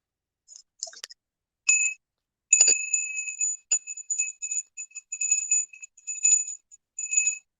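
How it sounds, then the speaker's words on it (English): A small hand bell, a family heirloom, is rung to clear energy during a reiki session: a run of bright, clear ringing strikes with brief pauses between them, with no talk. "I need to ring my bell. I need to clear my energy real quick."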